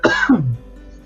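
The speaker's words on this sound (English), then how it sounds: "Keep coughing like that." A single rough, close cough with a throaty rasp, fading quickly into quiet.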